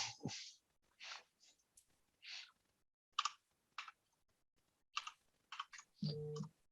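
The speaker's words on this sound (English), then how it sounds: "Let's see if my typing skills are good." Quiet bursts of typing on a computer keyboard in a home office, irregular clusters of soft key clicks separated by pauses, close and alone, ending with a short low hum.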